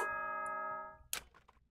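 A school broadcast chime from the Danganronpa 2 video game: a sustained, ringing bell-like tone with many steady harmonics that fades out, followed by a short burst of sharper clanking sounds.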